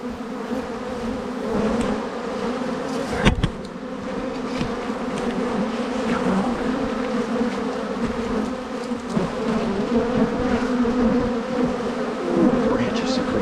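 A swarm of honey bees hangs in tree branches on a rainy day, giving a dense, steady buzzing drone throughout. A single sharp click stands out near the start.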